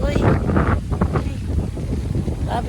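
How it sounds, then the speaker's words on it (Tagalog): Strong amihan wind buffets the microphone on a seaside walk, a loud continuous roaring rush, while someone talks over it. "Oh, labi kalakas hangin guys, oy."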